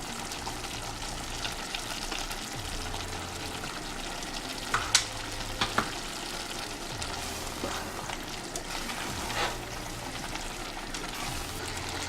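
Nigerian egusi soup with crayfish is stirred in a pot over a steady sizzle, with occasional spoon scrapes and clinks close by.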